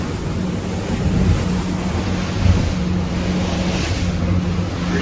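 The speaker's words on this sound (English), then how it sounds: "just all that tide water just rushing in there. Makes this huge amount of surf just in this one area" Tidal surf rushes into a channel as a boat crosses it, a dense, continuous roar of breaking water mixed with heavy wind buffeting on the microphone, loud and close throughout.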